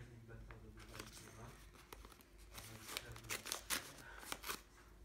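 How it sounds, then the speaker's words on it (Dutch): Scissors snip through a folded paper envelope being cut open to make a small pocket, giving a few crisp snipping and rustling paper sounds at close range amid soft handling noise. "Ik zal hem nu even met de schaar oversnijden."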